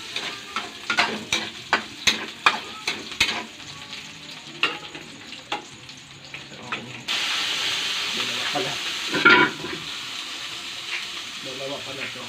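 Onions and garlic frying in a pan over a fire, with steady sizzling and rhythmic stirring scrapes, then a louder, fuller hiss as more goes into the pan; voices talk intermittently nearby.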